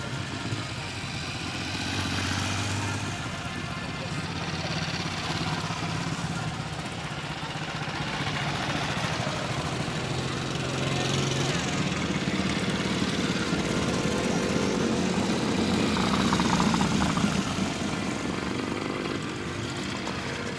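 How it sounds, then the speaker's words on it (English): Vintage motorcycles, most of them British, along with a red and black Gilera, circle a steam rally ground, giving a continuous mid-pitched engine drone that swells and fades as machines pass nearby, with no talking. "Most of these motorcycles are British. There are one or two 401s in there. There's a very nice red and black Gilera going round."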